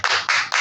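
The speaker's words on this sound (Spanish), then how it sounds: "Glorifique al Señor con esas palmas para Cristo." A church congregation claps together in praise, three loud, close, even claps in quick rhythm with no voices between them.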